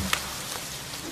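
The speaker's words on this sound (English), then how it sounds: "Hey, it's raining." Steady rain falling in a city street, a soft continuous hiss of drops spread evenly through the moment with no one speaking.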